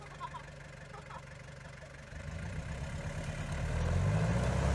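A 4WD vehicle's engine labouring as it climbs an off-road obstacle: a low rumble that swells steadily louder and heavier toward the end, with people talking over it.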